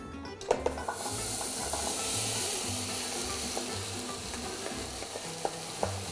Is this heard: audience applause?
no